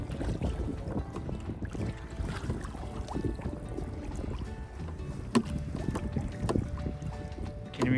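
A canoe is paddled across a lake into a headwind, with steady wind buffeting and water sloshing around the hull, plus occasional knocks and splashes from the paddle throughout.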